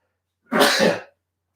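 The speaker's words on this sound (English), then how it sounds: "I'm going to sneeze." A single sharp sneeze, close and loud, bursting out and fading within half a second in an otherwise quiet space.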